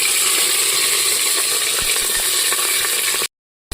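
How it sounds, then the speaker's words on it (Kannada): Chopped onion frying in a pan for a vegetable biryani gives a steady, dense sizzle throughout, with a few faint metallic clicks from stirring, then a sudden brief silence near the end. "ಈರುಳ್ಳಿ ಬ್ರೌನ್ ಕಲರ್ ಬರೋವರೆಗೂ ಹುರ್ಕೊಳ್ಳುವ."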